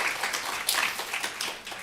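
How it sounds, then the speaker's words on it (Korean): A church congregation at a high school worship service claps briefly in welcome, a dense, moderately loud patter of many hands with no talking. "박수로 한번 환영하고 축복."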